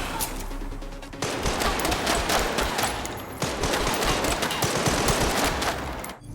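Sustained rapid automatic gunfire from the video game Resident Evil: Requiem rattles on almost without pause, dense and fairly loud, with no voices.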